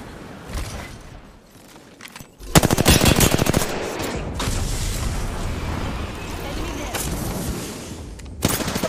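Automatic gunfire rattles in a ranked online shooter match, a long loud burst followed by further rapid fire and booms layered over game sounds, with a player talking over the action.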